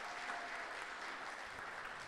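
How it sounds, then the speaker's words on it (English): An audience at a senior celebration applauds the graduating seniors, a steady wash of clapping heard from a distance and fairly faint throughout. "Let's round of applause for all our seniors."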